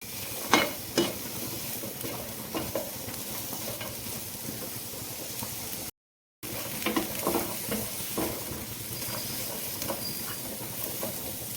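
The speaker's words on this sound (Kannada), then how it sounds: "ಮೊದಲಿಗೆ ನಾನು ಈರುಳ್ಳಿ ಹಾಕ್ಕೊಂಡಿದ್ದೀನಿ ನೋಡಿ ಒಂದು ಈರುಳ್ಳಿನ ಅದನ್ನು ಫ್ರೈ ಮಾಡ್ಕೊಳ್ಳೋಣ" A chopped onion frying in a pan, giving a continuous close sizzle with occasional stirring scrapes and a brief dropout to silence midway through.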